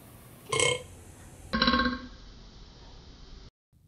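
Two loud, close burps in quick succession, the second longer and lower, followed by a brief quiet pause.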